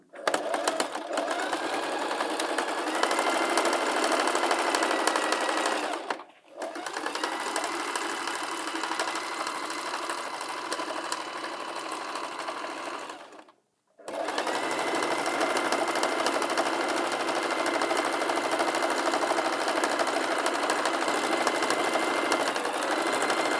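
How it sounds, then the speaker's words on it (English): A sewing machine runs in three long, steady bursts while stitching around the edges of a placemat, its close, even mechanical hum pausing briefly twice between seams. "So I've completed sewing all around the placemat."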